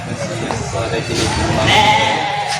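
A sheep bleats close by at a goat and sheep market, a drawn-out wavering cry rising in the second half over a background of people talking.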